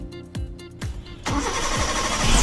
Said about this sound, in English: Now we have turned on the engine and you can see the engine status turns on.